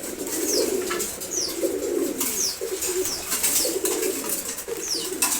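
A pair of Giribaz pigeons coos in repeated low, rolling phrases close by, while short, high, sweeping bird chirps recur over the top.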